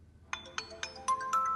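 A phone ringtone going off in a Hindi TV episode scene, four quick bright chirps in even rhythm followed by a sustained tone, loud and close with no talk over it.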